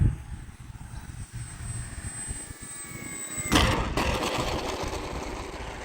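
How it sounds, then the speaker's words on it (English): Arrows P-51 Mustang RC model airplane's electric motor whining steadily in flight, a high thin tone with a sudden louder burst partway through as it passes close, no talk. "super impressive with the takeoffs and landings on this airplane"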